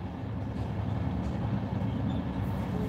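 A train pulls away from a Finnish railway, a steady low rumble of wheels and rolling stock holding level throughout, fairly close, with no talk over it.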